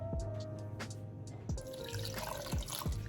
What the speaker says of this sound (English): And then 2 cups of water.